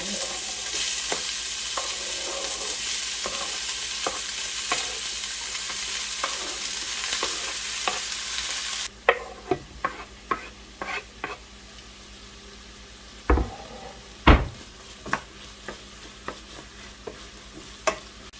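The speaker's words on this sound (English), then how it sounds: "I am going to saute these down for a few minutes, and then I will add my garlic in" Vegetables sauté in a very hot pan for a vegan fall dinner: a dense, steady sizzle fills the first half, then quieter frying continues under sharp spatula scrapes and knocks against the pan.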